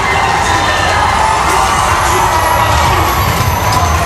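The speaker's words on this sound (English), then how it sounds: "We could hear the crowd going break the code" A loud arena crowd at a Mobile Legends esports match featuring Blacklist International cheers and shouts continuously, a dense, roaring wall of voices with whoops that never lets up.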